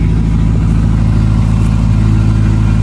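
A car engine with newly installed Flashark headers idles loud and near, a constant deep, slightly rattly rumble with no voices.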